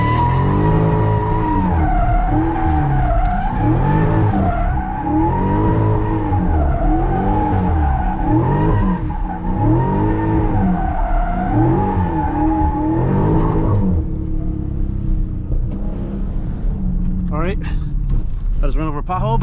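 A 2023 Dodge Charger Scat Pack Widebody street drifting, its engine revving hard in steady rhythmic surges with continuous loud tire skidding and squeal, heard up close from inside the car, then settling to a lower rumble as the slide ends.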